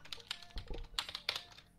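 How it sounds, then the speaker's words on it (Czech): Someone pounds hard on a computer keyboard, a quick irregular clatter of loud key strikes close by, with occasional heavier thumps mixed in. "já tě slyším, jak tam do té klávesnice bušíš"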